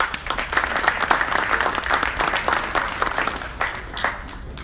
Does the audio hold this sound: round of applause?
yes